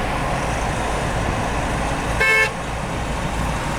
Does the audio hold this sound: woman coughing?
no